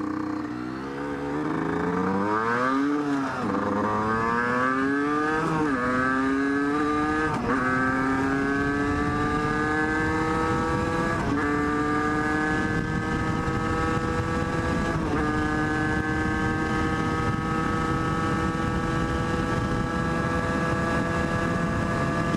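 Derbi GPR motorcycle ridden off-road, its engine loud and continuous, revving up through rising pitch sweeps with several gear shifts before settling into a steady high drone, with wind rush over the helmet microphone.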